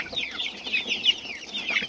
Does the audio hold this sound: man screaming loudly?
no